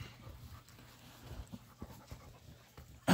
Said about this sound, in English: 100-pound lap dog right there, boy.